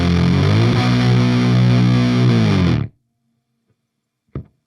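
Electric guitar played through a Beetronics Octahive V2 high octave fuzz pedal, a loud buzzing sustained fuzz tone that cuts off abruptly into near silence, followed by a brief faint pluck of residual noise.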